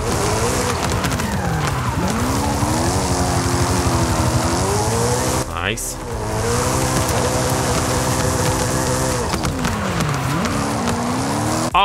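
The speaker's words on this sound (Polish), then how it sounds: "nie podoba mi się dźwięk tego wydechu tutaj, strzelającego" A BMW rally car in Forza Horizon 5 revs hard and continuously, its engine note rising and falling through gear changes, with a brief break mid-run and tire squeal around cornering.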